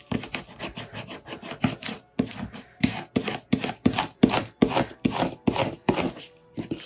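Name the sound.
smoothing tool scraping air pockets out of vinyl letters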